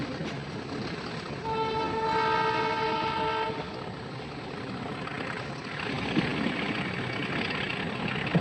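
A train on a forest line in Uttar Pradesh rumbles past at a steady pace while its horn sounds one sustained, clear blast early on. The rolling wagon noise continues after the horn ends.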